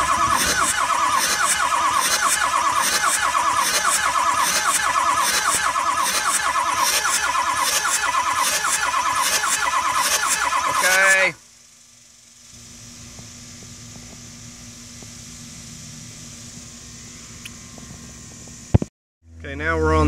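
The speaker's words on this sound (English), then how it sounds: "we're going to go ahead and crank it over again here" A 2006 Ford F350 with a 6.0L diesel cranks over during a compression check: a loud, steady rhythmic starter churn for about eleven seconds, then a quiet pause and a brief second burst of cranking at the end.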